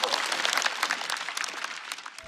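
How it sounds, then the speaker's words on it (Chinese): A comedy show audience applauds, with dense, steady clapping that fills the whole stretch and fades slightly toward the end. "我们再次把掌声送给王颖。"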